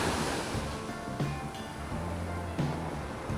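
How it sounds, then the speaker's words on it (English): Ocean surf rolls onto a beach in the Philippines, with a steady wash of breaking waves and gusts of wind buffeting the microphone on an overcast, rainy day. "I got to get to the ocean every now and then."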